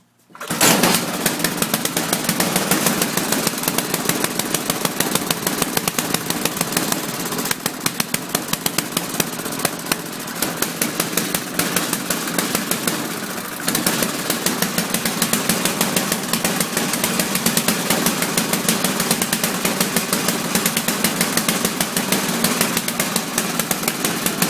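A Tecumseh snowblower engine runs continuously at high speed after choking and priming. It makes a loud, steady, rapid mechanical clatter close to the listener, with a brief dip in intensity partway through and no voices.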